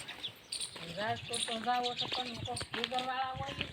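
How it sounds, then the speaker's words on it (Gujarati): Bright, repeated chirps of sparrows close by, a lively chatter of short calls, with a person speaking softly at times. "અને જો અહીંયા જો ચકલા"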